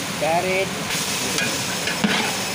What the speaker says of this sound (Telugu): ముక్కలన్నీ వేసి అయితే ఆయిల్లో మంచిగా కలుపుకోవాలి